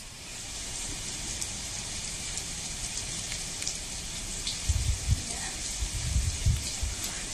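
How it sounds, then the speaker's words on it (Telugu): Heavy monsoon rain pours steadily across North Telangana, a dense, continuous hiss that fills the whole clip, with a few low thumps toward the end. "గడిచిన 10 గంటలుగా కుండపోతగా వానలు పడుతున్నాయి."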